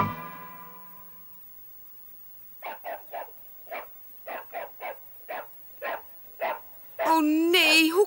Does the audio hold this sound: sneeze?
no